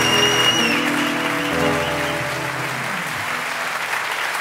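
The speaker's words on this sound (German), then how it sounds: "Alles nur wegen dem Applaus." Concert audience applauding a blues comedy show, a dense sustained wash of clapping with a sustained musical tone fading underneath at the start.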